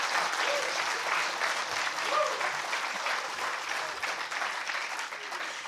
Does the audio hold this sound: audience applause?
yes